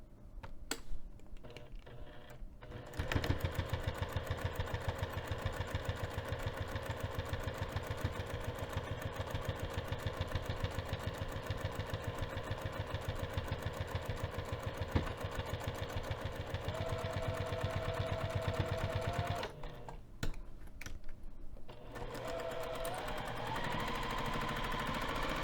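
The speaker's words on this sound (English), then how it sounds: "I'm moving back over to the sewing machine" A sewing machine stitching a fabric bag flap at a longer stitch length, a steady close mechanical rattle running for most of the stretch, with brief quiet gaps at the start and near the end.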